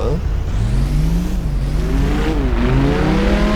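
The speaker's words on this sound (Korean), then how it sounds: "신호 대기 중에 공회전 해보겠습니다" A tuned-exhaust Lamborghini Huracán Performante idles at a stoplight, a loud, close, deep engine rumble with gentle rises and dips in pitch, while someone talks over it.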